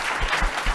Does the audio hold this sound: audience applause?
yes